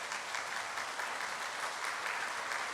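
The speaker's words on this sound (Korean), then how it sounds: "전달해 주실 때 박수 부탁드립니다" Steady applause from a church congregation during a ceremony presenting a donated Starex van to the church, an even wash of clapping at moderate, distant level throughout.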